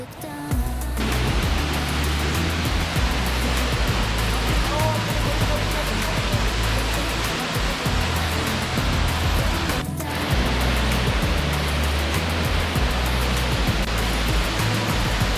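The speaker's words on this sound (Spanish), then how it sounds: "la belleza era impresionante de ver cómo el agua busca su camino dejando pozas y pequeñas" A mountain stream in the Nocui Valley near Illapel, Chile, rushes steadily over pools and small cascades, a loud continuous broadband water roar filling the whole clip, with a brief dip partway through.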